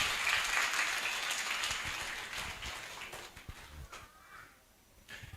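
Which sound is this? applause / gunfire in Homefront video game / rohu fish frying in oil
applause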